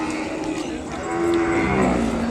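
A pure white Ongole breed calf gives one long, close, drawn-out moo that swells louder toward its end.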